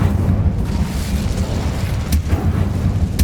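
An Incendio fire spell is cast in Hogwarts Legacy, a loud, deep rumbling whoosh of flame with a booming low roar and a sharp burst near the middle, no voices.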